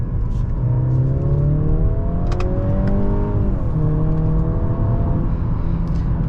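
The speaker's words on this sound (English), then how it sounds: "I could definitely hear the turbos" Turbocharged 2022 Mercedes C-Class accelerating on the road, a loud, steady engine note rising in pitch through the gears with one shift partway, heard from inside the car and no talk.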